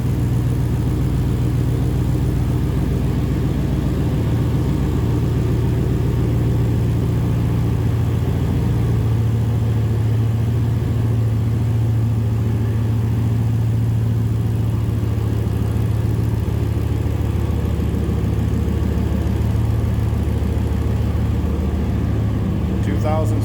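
A custom 2016 Jeep Wrangler Unlimited Backcountry fitted with a 6.2 liter Hellcat V8 idles with a steady, deep rumble and slight waver, with someone talking over the engine throughout.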